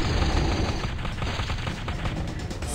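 Gunshots in Hunting Era, a mobile action-RPG: a dense, loud volley of rapid cracks fires in quick succession without a break, close and heavy over a constant rumble.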